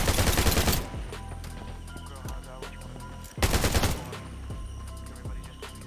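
Rapid automatic gunfire in the survival shooter game Undawn, two loud sustained bursts separated by a stretch of scattered single shots and ringing echoes, with no talking.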